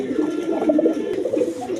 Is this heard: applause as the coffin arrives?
no